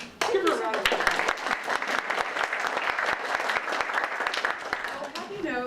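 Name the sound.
audience applause for a guest speaker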